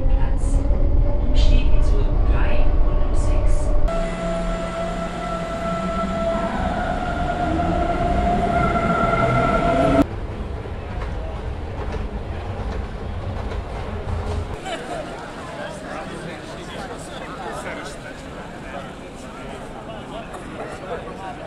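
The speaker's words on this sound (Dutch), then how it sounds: "En hoewel dit natuurlijk gewoon een soort van tram of metro is, valt het onder de Deutsche Bahn" Munich tram or metro ride on Deutsche Bahn rail, heard from inside the car: a steady rumbling run with a brief squeal, then a sudden change as the carriage noise shifts and fades, with voices underneath.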